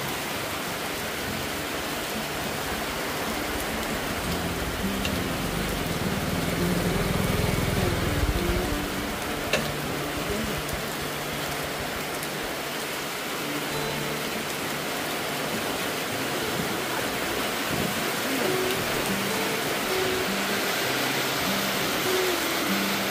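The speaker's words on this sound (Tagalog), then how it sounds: "biglang bumuhos ang malakas na ulan" Heavy rain pours down steadily and loudly as a dense, continuous hiss, swelling briefly before settling into a constant outdoor downpour with no voices.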